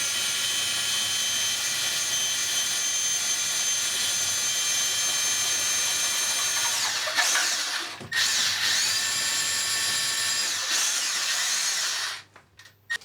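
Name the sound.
power drill drilling into thermalite wall without hammer action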